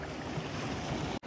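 Broad surf wash of sea waves at Tarkarli beach on the Malvan coast, a steady roaring rush close by that cuts off abruptly near the end.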